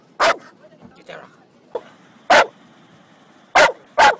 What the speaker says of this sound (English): This is a traditional canary dog